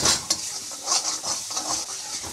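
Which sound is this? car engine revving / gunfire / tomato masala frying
tomato masala frying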